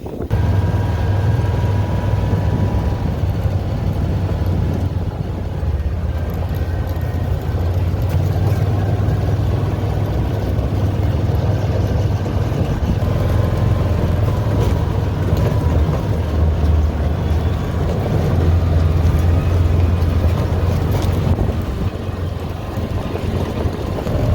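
An old Mule utility vehicle driving toward a lake near Osceola, Missouri, its engine a constant loud low drone with rumble and wind buffeting throughout, close and without pause, no talking.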